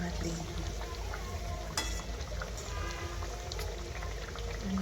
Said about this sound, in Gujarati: ધીમા તાપ ગેસે આપણે તળીશું બંને બાજુથી